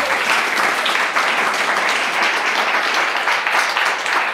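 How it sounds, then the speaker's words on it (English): Steady, dense audience applause at a poetry reading celebrating National Poetry Month, sustained and fairly loud throughout without any speech over it. "give him a huge round of applause"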